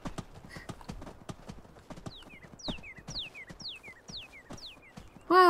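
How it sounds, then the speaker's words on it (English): Steady clip-clopping of horse hooves in a video game, a regular walking rhythm of sharp hoof strikes at close range, with faint descending chirps overhead and a brief louder whinny-like sound right at the end. "Never mind, that horse has got him."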